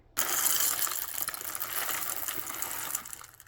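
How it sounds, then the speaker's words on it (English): Coffee beans pour into a grinder as a steady rattling hiss for about three seconds, close and fairly quiet, with no voices. "Pour your beans carefully into the grinder."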